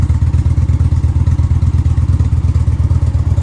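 A motorcycle fitted with a Stage 1 air cleaner idles steadily, a loud, close, even low-pitched thumping pulse with no voices.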